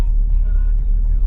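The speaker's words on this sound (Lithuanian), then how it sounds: "O, yra mašina." A car engine rumbles close by in a low, steady drone for a brief moment, with no other clear sounds over it.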